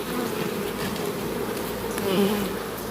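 Honey bees buzz thickly and continuously at an open beehive during comb removal in Jamaica, a close, dense drone filling the whole stretch with no speech.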